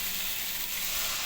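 Potatoes cooking in a pan sizzle with a steady, faint hiss after a splash of water is added, a continuous soft frying crackle with no talk.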